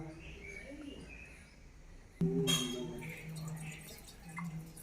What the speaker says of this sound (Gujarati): મસ્ત પંખીઓનો કલરવ અને કુદરતી